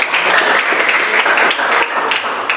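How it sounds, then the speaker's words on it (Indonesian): Students in a classroom clapping for a classmate's answer, a loud, brisk burst of many hands clapping close by with uneven claps standing out. "Kasih tepuk tangan pada"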